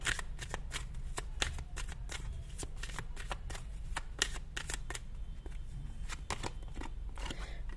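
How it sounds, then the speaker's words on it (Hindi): Tarot cards being shuffled and drawn from a deck, a close, steady run of crisp riffling flicks and slaps continuing throughout at a soft level. "ओके, कुछ कार्ड्स मैं यहां से निकालने वाली हूं।"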